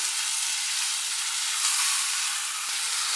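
Soaked rice, two cups, stir-fried in a pot for a mushroom and shrimp or salmon pot-rice dish, giving a steady, fairly loud broadband sizzle and hiss that holds evenly throughout with no voices.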